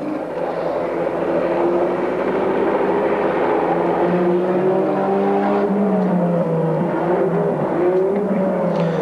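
Nissan GT-R race car, a 2.5-litre twin-turbo six-cylinder with six-speed gearbox, at the 1991 Bathurst 1000, drones steadily with rising and falling engine pitch as it passes at speed, loud and continuous with no talk.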